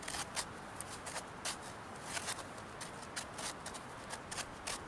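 Sharp-edged dacite stone scraped repeatedly along wood, peeling off fine curls for fire-making: a rapid run of dry, rasping strokes, close and moderately loud, with no talking.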